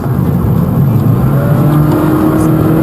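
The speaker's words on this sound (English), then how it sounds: "You can listen to the engine too if the sound is good." A car engine hums steadily at low pitch with a constant drone, close and fairly loud, no talking.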